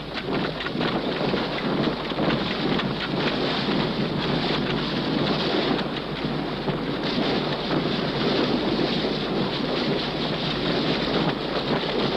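Blustering westerly squalls and gusting headwinds roar across open sea as yachts in the 1965 Sydney Hobart Yacht Race beat into them. The rushing wind and sea noise is steady and loud for the whole stretch, with no voices.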